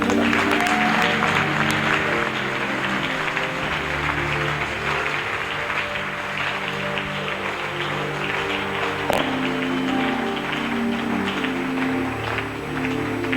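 A church congregation applauds and acclaims the Lord, steady sustained clapping mixed with music tones and scattered voices filling the room throughout.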